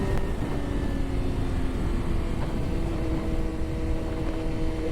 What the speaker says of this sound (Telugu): riding the BMW S1000RR M Sport 2025 variant